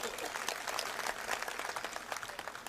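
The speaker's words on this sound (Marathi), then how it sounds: "एकदा जोरदार टाळ्या वाजवा." An audience at an outdoor election campaign rally in Akluj gives a burst of applause, a dense spread of distant, fairly faint clapping that carries on for about three seconds.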